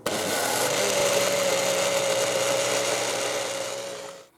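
A kitchen blender runs continuously for about four seconds, grinding a quarter onion into tomato basil soup, a steady loud whirring drone with a sustained motor tone that cuts off abruptly at the end.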